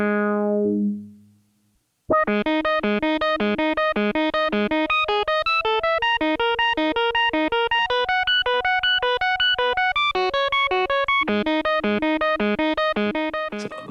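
An AudioKit iOS bass synth plays a fast, repeating pulsed sequence through distortion and lo-fi effects, loud and buzzy, after a short fading tone and a brief pause.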